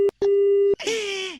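Phone line tones after a call is hung up: two short beeps, then one longer steady tone, clear and close, followed by a burst of brighter voice-like sound.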